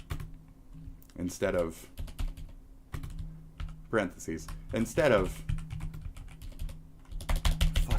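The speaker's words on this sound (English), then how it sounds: "I hate mechanical keyboards." Clicky mechanical keyboard keys clatter in quick irregular runs close by while someone talks over them.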